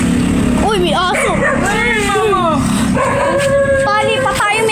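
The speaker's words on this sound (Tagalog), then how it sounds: "Uy, may aso." A dog yips and whimpers in short bursts close by at a village fiesta, mixed in with continuous talking.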